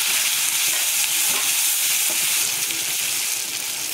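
Curry leaves and a small tomato sautéing in oil in a pan, a loud, close, steady sizzle with crackling spatter and faint stirring, no speech.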